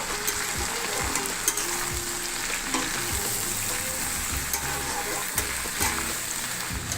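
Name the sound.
stirring snake gourd frying in a pan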